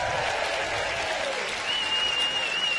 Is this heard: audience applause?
yes